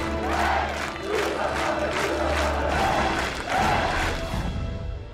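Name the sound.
crowd of volunteers applauding and cheering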